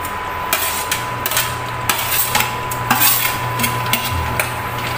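A spoon stirs beef kaldereta with bell peppers in a cooking pot, making repeated scraping and clinking taps against the metal over a steady low hum, with no talking.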